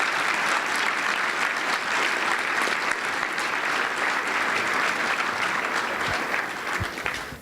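Sustained applause from a seminar audience at a presidents-elect training event, a dense, even roar of clapping lasting several seconds before it begins to thin out at the very end.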